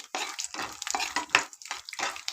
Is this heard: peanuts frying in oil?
yes